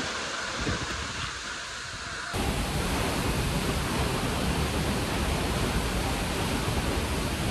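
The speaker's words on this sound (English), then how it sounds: "The waterfalls were huge, and you could go behind some of them." Huge waterfalls in Iceland, a steady, dense roar of falling water that fills the whole clip, growing louder after the first couple of seconds and continuing without break.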